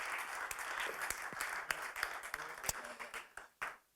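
An audience at a panel discussion on autonomous driving claps in a dense burst of applause that thins into scattered individual claps before stopping.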